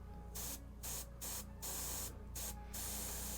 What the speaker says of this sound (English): I just want to spray a little bit of gray in there